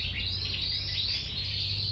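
A caged canary sings a continuous, bright, warbling song, close and steady, with no voices.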